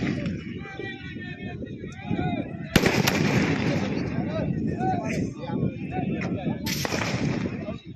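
A UP police tear gas shell, a two-in-one round giving both smoke and a blast, fired during street violence in Kanpur: two sharp, loud bangs burst amid crowd babble and wind rumble.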